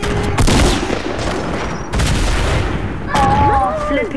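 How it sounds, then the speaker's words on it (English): Grenade blasts in Fortnite go off as sharp booms, three loud bursts spaced across a few seconds amid game noise, with a voice speaking near the end. "got me with a grenade"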